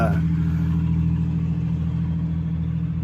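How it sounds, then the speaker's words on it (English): A Mustang engine with several exhaust leaks rumbles steadily nearby, a low, rough exhaust drone holding for a few seconds without pause. "y'all hear that Mustang? Sound like he got about 5 exhaust leaks"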